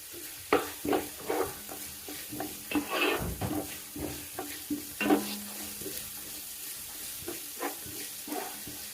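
Garlic and ginger frying in a pan give a continuous sizzle, broken by repeated scraping and stirring strokes of a utensil against the metal at an uneven pace, heard close and with no voices.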